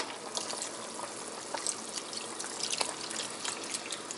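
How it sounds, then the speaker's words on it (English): Chicken broth pours steadily into a pot with a continuous splashing, trickling sound, close and fairly loud, no voices. "So I'm going to be pouring some chicken broth"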